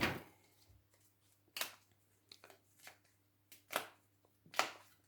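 Force cards for a Warhammer 40K second edition game are shuffled by hand on a quiet tabletop, giving a series of short, crisp riffling bursts separated by pauses, faint and close with no talking.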